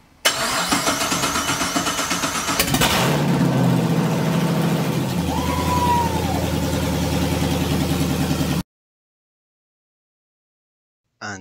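An LS V8 swapped into a Porsche 911 cranks over with a steady rapid starter whir, catches, and fires into a loud, deep, lumpy idle, then cuts out abruptly.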